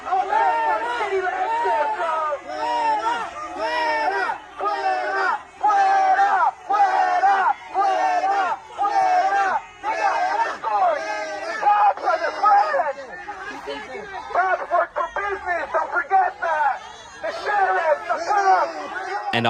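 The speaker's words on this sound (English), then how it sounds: "they were shouting fuera at them" A protest crowd shouts a repeated chant in rhythmic bursts at AI developers, loud and continuous with many voices overlapping throughout.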